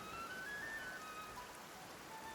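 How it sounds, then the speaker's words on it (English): Steady rain falls in the video game Genshin Impact, a soft even hiss of drops with no talk and a faint thin tone running above it. "Oh, and it's raining here."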